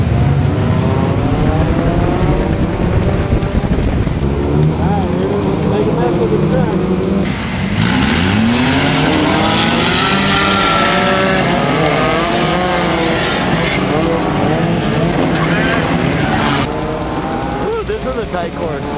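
Video game race cars roar off the start of a rainbow crash enduro at night, a dense wall of engine drone with rising revs and overlapping whines, loud and continuous, with commentary talking over it.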